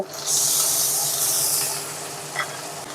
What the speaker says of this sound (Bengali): মশলাটাকে সুন্দর করে কষিয়ে নিতে হবে